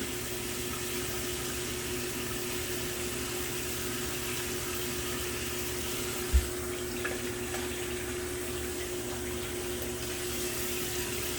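Water runs steadily from a tap, a continuous close hiss with one brief knock partway through.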